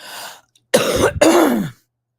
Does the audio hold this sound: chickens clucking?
no